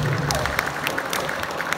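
Crowd applause at a municipal public ceremony honoring local officials, steady dense clapping throughout with faint background murmur.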